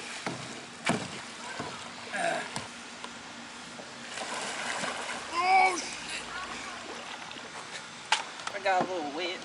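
Kayak paddle strokes and small splashes in a tiny stretch of water, soft intermittent splatters at close range, with people talking over them throughout.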